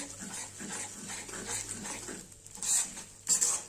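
Flour cooked with edible gum being stirred continuously in a pan for alsi mawa laddu, giving a steady scraping of spoon on metal with soft rattles and a couple of sharper clinks near the end.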